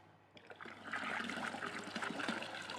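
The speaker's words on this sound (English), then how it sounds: "Now we need to top up the fermenter to 23 litres with good quality cold" Good quality cold water is poured into a 23-litre wine kit fermenter, a steady splashing, trickling stream that starts softly and quickly swells to a full, close gush.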